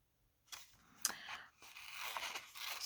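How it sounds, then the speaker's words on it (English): Scissors cutting out a paper penguin shape, a few close, crisp snips and papery scratching in short bursts, then a longer run of soft cutting noise. "First thing I need to do is cut out the penguin."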